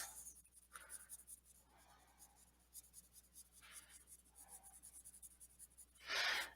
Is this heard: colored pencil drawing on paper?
yes